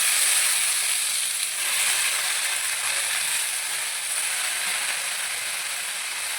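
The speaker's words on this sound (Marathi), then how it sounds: "आता चांगलं फ्राय देतो" Fenugreek (methi) fries in a pan with a steady, loud, continuous hissing sizzle that holds evenly throughout, with no other sounds breaking in.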